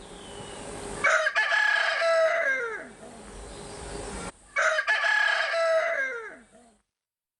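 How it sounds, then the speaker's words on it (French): A rooster crows twice at an arboretum in the Atlas blidéen, Algeria, each call a loud close drawn-out cock-a-doodle-doo falling at the end, with quiet pauses between. "Même que le chant du coq ne les dérange guère"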